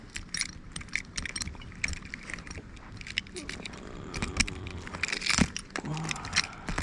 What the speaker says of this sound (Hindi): चाबी को निकाल देंगे हम बस।